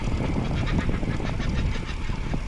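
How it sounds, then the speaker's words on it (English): Kookaburras calling at dawn, their cackling calls faint and distant beneath steady wind and road noise during an early morning bike ride. "Kookaburra's waking up. Hear that?"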